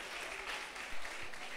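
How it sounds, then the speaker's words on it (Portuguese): A congregation claps at a national evangelical church convention, a steady, many-handed applause that comes across somewhat distant and soft, with a brief louder swell in the middle. "aplauda ao Senhor"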